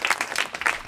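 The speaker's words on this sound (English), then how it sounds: "Let's give a round of applause to the two candidates for" Brief burst of audience applause at a school board candidates' forum, a crowd clapping steadily for under a second.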